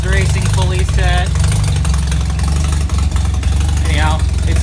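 A Mazda 13B rotary engine idles steadily and loudly in a garage, its low throbbing drone continuous throughout while someone talks over it.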